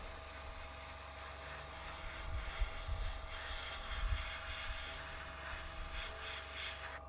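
Steady airbrush hiss spraying paint onto a Warhammer 40k wraith miniature, a continuous soft spray with faint rubbing and handling noises beneath, close and unbroken for several seconds.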